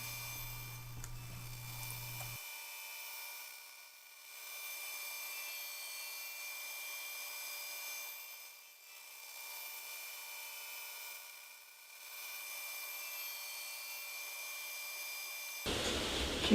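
An automated band saw runs unattended, slicing three wood boards 25 thousandths of an inch thick. It gives a steady, faint whirring hum with slow periodic dips as the carriage reverses, and a brief low tone near the start.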